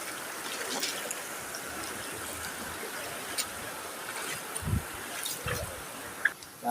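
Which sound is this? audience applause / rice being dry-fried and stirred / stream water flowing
stream water flowing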